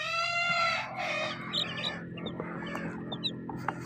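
Young chickens for sale cheep in high, rapid chirps through the first half, with fowl clucking and scattered peeps continuing more faintly afterward; no talking.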